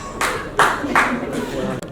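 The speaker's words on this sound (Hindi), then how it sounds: "जोरदार तालियां बजा दीजिए।" Audience applause at an award ceremony, a few short bursts of clapping, fairly loud and close.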